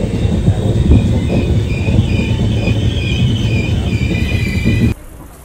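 A long-distance train from Howrah pulls into Kanyakumari station, its last stop, with steady rumbling rolling noise and high wheel squeal throughout, loud and close, before the sound drops away abruptly near the end.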